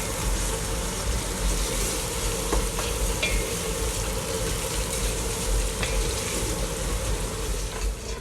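Onions frying in a pan while being cooked down soft alongside meat, a steady close sizzle filling the whole stretch with occasional stirring clinks.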